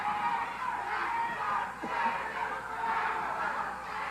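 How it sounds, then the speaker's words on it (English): Wrestling crowd at Memorial Auditorium in Fort Lauderdale, a steady roar of murmuring and cheering voices filling the hall at even loudness throughout. "This crowd really into it at the Memorial Auditorium here in Fort Lauderdale"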